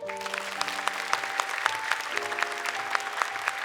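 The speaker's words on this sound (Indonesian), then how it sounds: "Boleh tepuk tangan" Audience applause in a TV studio during a Quran memorization competition show, a steady, moderately loud patter of clapping with sharp claps standing out, alone without talk.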